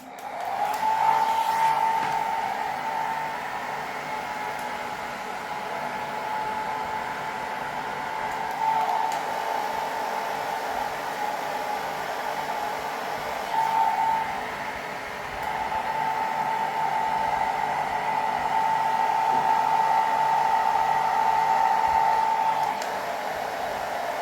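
A simple handheld blow dryer drying hair at home gives a steady, close whooshing hum with a thin whine, dipping slightly now and then as a brush moves through the hair, with no talking.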